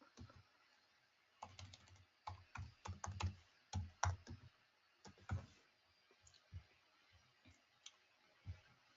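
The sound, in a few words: typing a password on a computer keyboard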